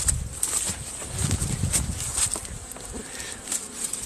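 Honey bees buzz around a hive in a garden beside a currant bush, a steady close hum with individual insects passing near and away throughout.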